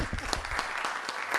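An audience claps together in a dense, steady burst of applause, close and fairly loud throughout with no break.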